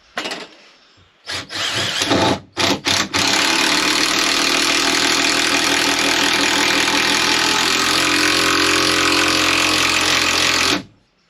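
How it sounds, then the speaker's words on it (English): An electric drill starts with a few short bursts, then runs in one long loud whine as it bores through wood, its pitch dropping under load before it stops abruptly. "So let's drill through there then."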